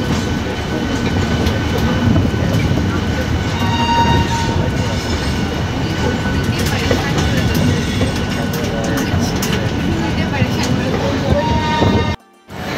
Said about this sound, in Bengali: 13 নম্বর প্ল্যাটফর্মে আমাদের ট্রেন কিন্তু এন্ট্রি করলো